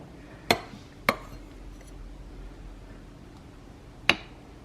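A spoon scoops and spreads a mixture in a dish over milk, giving a few sharp, separate clinks against the dish with long quiet gaps and a faint steady hum behind.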